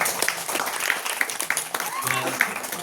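An audience claps for the singer, a steady patter of applause heard while someone talks over it.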